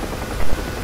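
A UH-1H Huey helicopter in the DCS World combat flight simulator drones steadily with loud, dense rotor and turbine roar and a brief swell in the middle, with no voices.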